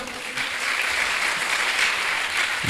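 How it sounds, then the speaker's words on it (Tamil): Strong, dense applause from a school audience at an inter-school quiz event, continuous clapping held steady and loud throughout, with no talk over it. "பலமான கரகோஷம்"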